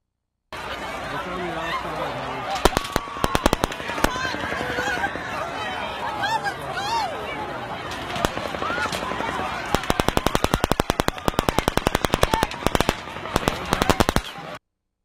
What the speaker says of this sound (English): We have video from the horrifying moment the gunfire went off.